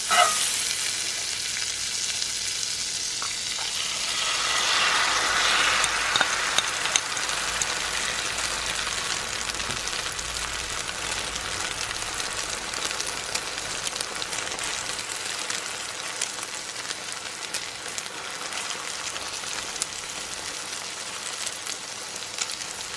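Egg pancake frying in butter over low heat, a dense, even sizzle like light rain that swells in the first seconds and then settles to a steady crackle, close up with no voices.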